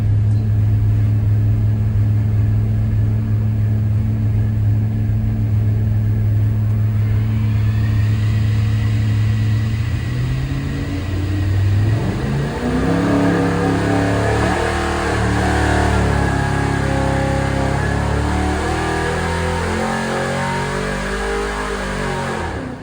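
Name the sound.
engine with double hump heads revving on a dyno test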